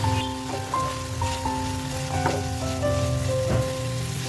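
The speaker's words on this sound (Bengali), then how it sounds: "চিকেনটা ভালোভাবে ফ্রাই করে নেবে।" Chicken frying in a pan with salt and black pepper over a low flame gives a continuous close sizzle with scattered pops and light stirring knocks, alone without speech.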